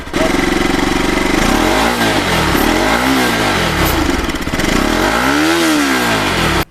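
A cold motorcycle engine roars up close just after starting, revving repeatedly, its pitch sweeping up and down in several loud surges over a rough idle.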